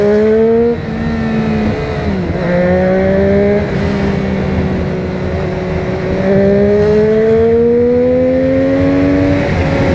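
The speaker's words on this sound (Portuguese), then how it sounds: "Escutei motos, ouvi motos." Loud, steady engine roar with pitch rising and falling as motorcycles, including a Honda Hornet, rev and pass close by, continuous throughout.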